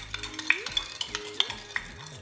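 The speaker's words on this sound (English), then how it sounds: "Just keep mixing." A utensil stirs Fiesta Spam Bake ingredients in a bowl, giving soft repeated scrapes and small clinks at an irregular rhythm, quiet and close with no voices.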